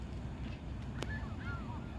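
Ducks and seagulls on a flooded soccer field give a few faint calls over a steady wash of outdoor noise, with one brief sharper cry standing out midway.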